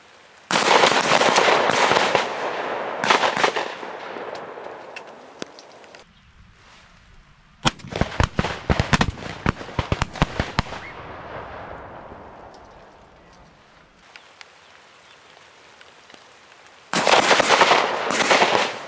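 Shotguns fire at a quail tower shoot: loud bursts of sharp, rapid reports near the start, a dense volley of cracks in the middle, and another cluster at the end, with quieter gaps and faint distant pops between.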